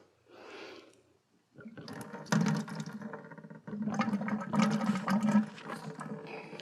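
Water surging and gurgling through the heater core of a Mercedes 560SL R107 during a coolant flush, a short burst followed by a pause, then sustained loud sloshing and bubbling as air is pushed out.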